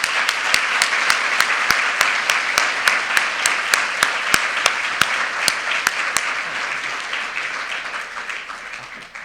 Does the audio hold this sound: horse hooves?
no